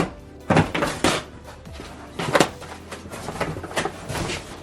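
Cardboard shipping package holding a Ford Mustang V6 car bumper and side skirt being opened, with a series of close thumps, rustles and tearing knocks spread irregularly over a few seconds, no talking.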